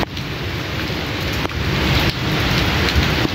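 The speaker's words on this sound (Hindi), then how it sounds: "बेहतरीन किस्म की जो है बारिश शुरू हो गई है" Heavy morning rain pours down in Lahore's Johar Town, a loud, steady wash of falling water with a few sharper drip hits, close by and with no voices.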